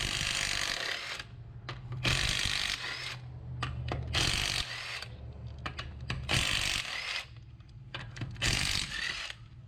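Pneumatic or electric power tool loosening a shock absorber bolt on a Volkswagen Vanagon Westfalia 2WD camper, worked on the floor: repeated loud bursts of buzzing whir with short pauses between, close by.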